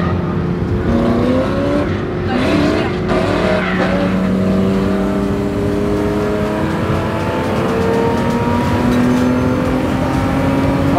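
A car drifts close by, its engine roaring loud and steady while the tires skid and squeal in long, sliding tones that rise and fall.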